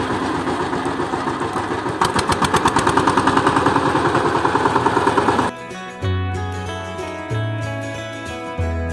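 Farm vehicle engine rolling down a slope during monsoon sowing on a Konkan farm, a loud rapid chugging that throbs for several seconds and then gives way to a lower, steadier tonal hum.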